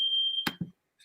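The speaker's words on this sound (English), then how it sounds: "The fire alarm is going off." A fire alarm sounds as a single steady high-pitched electronic tone that cuts off abruptly, followed by a couple of dull thuds, then near silence.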